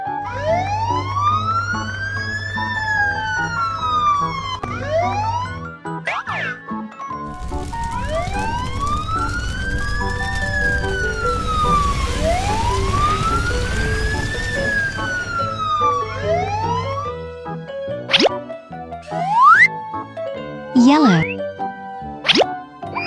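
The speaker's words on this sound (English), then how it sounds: "fire truck" A wailing emergency siren sweeps up and down repeatedly, loud and close, then breaks into short rising whoops near the end.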